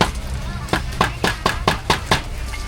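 Rapid, evenly spaced knife chops through meat on a cutting board, about nine sharp thuds in a steady rhythm, close and fairly loud.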